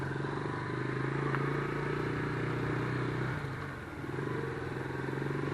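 A Lifan KP Mini 150 motorcycle cruising through town, its engine droning steadily with a low rumbling hum close by, easing briefly near the end before picking back up.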